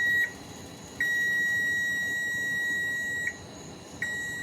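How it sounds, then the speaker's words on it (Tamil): Kitchen timer beeping while making curd, three sharp high electronic beeps separated by pauses, clear and close against a quiet background. "பீப் சவுண்ட் வந்திருக்கா"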